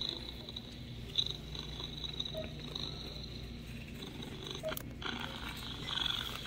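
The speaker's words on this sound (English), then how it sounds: "Look, charming purr." A soft, low, continuous cat purr plays from a battery-powered sound book cover, steady and close against faint background hiss.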